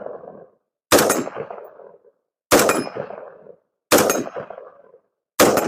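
Four loud, sharp rifle shots fired one at a time at an A-zone silhouette target, each with a short echoing tail, spaced about a second and a half apart with silence between.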